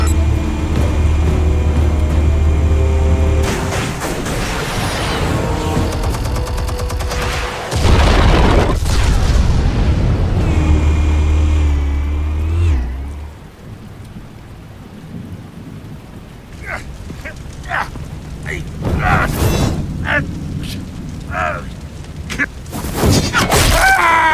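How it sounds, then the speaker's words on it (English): Explosives detonating in the Batman Telltale video game, a loud rumbling boom with a deep low roar that swells, cuts off, then gives way to scattered crackling debris and bursts. "Explosives armed. Fire when ready."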